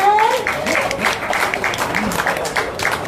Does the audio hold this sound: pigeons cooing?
no